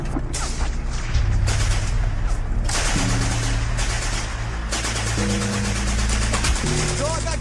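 Dense, loud rapid-fire gunfire and explosions fill a shooter video game battle almost without pause, with shouted voices mixed into the chaos.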